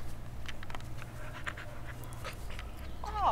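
A mixed-breed female dog pants rapidly and steadily close by, with a brief high whine near the end; quiet overall with no speech.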